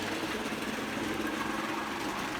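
A Lionel 8250 Santa Fe GP9 model locomotive motor runs forward after a repair, giving a steady, even whirring hum with no pauses and no voices.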